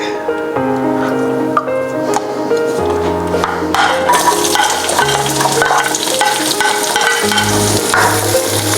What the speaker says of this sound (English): we're going to start sauteing our onion and garlic.